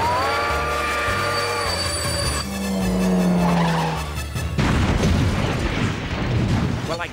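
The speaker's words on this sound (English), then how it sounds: "I guess that must be a through train" A through train in an animated cartoon rumbles past close by, with high-pitched whistle-like tones and squealing wheels giving way to a loud, noisy roar of rolling cars.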